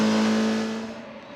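Race car engine from an in-car camera during GTC racing at Zwartkops Raceway, a loud steady tone that fades and drops off within about a second and a half.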